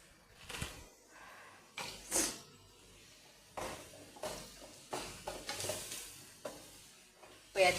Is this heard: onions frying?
yes